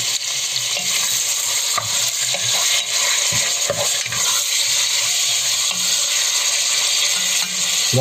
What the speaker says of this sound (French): le but, c'est de faire cuire un petit peu la viande, de faire un petit peu blondir